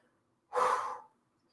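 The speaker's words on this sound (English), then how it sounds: "3 full breaths." One full, deep breath during a yoga exercise, a single close, breathy exhale of about half a second, alone in otherwise near silence.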